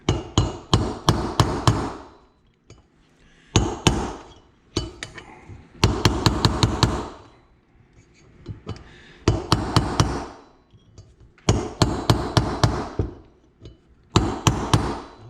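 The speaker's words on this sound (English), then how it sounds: "So let me get a punch and a hammer, and we'll start tapping." Bursts of rapid metallic hammer blows on a punch, tapping out a front wheel bearing on a Suzuki LTZ250 ATV, clustered in groups with short pauses between, close up and sharp.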